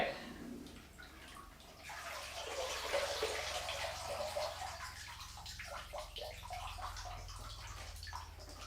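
Water runs and splashes into a toy ship sitting in a bathtub, a continuous gurgling fill that is fairly close but quiet, with no talking.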